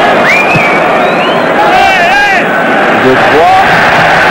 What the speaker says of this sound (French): le public applaudit, il a raison